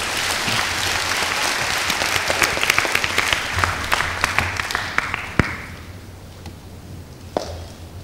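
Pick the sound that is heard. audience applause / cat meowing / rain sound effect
audience applause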